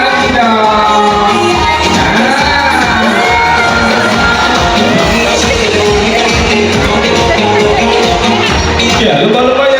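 Crowd at a SeaWorld Ancol dolphin show cheers and shouts loudly and steadily, a dense wall of noise with children's voices mixed in and applause likely buried beneath.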